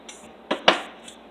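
Cashews drop into a bullet blender cup in a home kitchen while making plant-based gravy, giving two or three sharp, close clicks that fade quickly against a quiet background.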